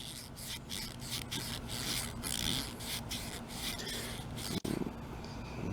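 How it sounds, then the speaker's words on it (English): Rapid back-and-forth scrubbing of metal with a Scotch-Brite pad on a Bolens 22-inch self-propelled mower, a continuous rasping rub with rhythmic strokes, close up, ending with a sharp knock. "I'm going to take a Scotch-Brite pad."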